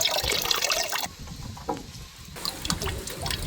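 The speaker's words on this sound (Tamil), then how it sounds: "கழுவி எடுத்து துணியில் வச்சு புழிஞ்சுக்கிறாங்கண்ணா" Grated cucumber, carrot and potato, wrapped in a white cloth, are wrung out by hand, releasing water in bursts of trickling and splashing that pause briefly in the middle before resuming close by.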